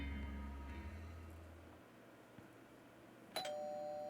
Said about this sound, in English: About 15 minutes ago, he rang my doorbell.